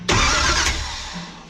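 A 1981 Chevrolet Malibu's engine cranks over in one loud, close burst that fades without catching, under a steady low rumble.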